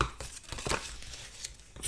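Scored cardstock is folded and burnished for a scrapbook folio, giving quick, close papery crinkles and rubbing scrapes in short irregular bursts.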